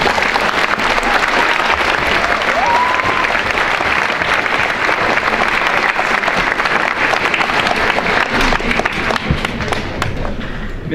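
Sustained loud applause from a school Veteran's Day audience honoring award winners, a thick, even roar of many clapping hands lasting throughout with little talk.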